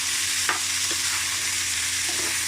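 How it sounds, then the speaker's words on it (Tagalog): Crab and coconut milk sit in a cooking pot, giving a steady loud sizzle and bubbling with a couple of faint stirring clinks, close up and without talk. "nilagay ko na pala yung aking crab saka yung gata ko"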